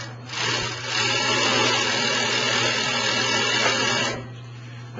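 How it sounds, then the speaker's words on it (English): A Consew 206RB sewing machine winding a bobbin gives a steady, even motor whir that starts, holds for about four seconds close up, then cuts off, with no talking. "winding the bobbin."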